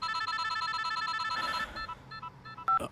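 A telephone rings repeatedly in steady, evenly spaced electronic bursts, loud and close, then breaks off into a few scattered tones and a short beep near the end, with no talking.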